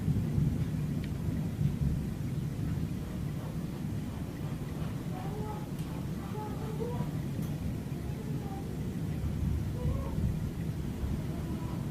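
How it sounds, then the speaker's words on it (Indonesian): Volcanic lightning thunder during the 2014 Mount Kelud eruption in Indonesia, a continuous low rumble over steady rain-like hiss, with faint scattered higher tones and no clear voices. "Pada umumnya terjadi sekitar 300 kali petir yang muncul ketika gunung berapi mulai menunjukkan aktivitasnya."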